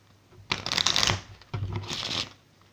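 Playing cards shuffled by hand while preparing a magic trick, two crisp riffling bursts a second apart, close and loud with no talking.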